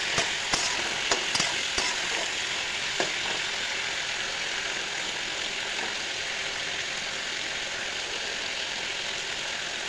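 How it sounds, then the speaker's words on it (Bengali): Gourd and potato chunks with chilli, salt and turmeric frying in hot oil in a wok, a steady close sizzle with a few sharp stirring clinks early on, no talk. "এখন পটল আলু একদম ভাজা করে নেবো"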